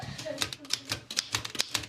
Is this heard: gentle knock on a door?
no